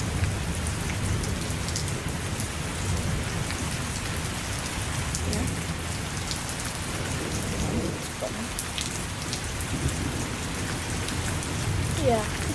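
Steady rain falls during a thunderstorm, a constant close hiss of drops with low rumbling underneath, and a voice speaks briefly.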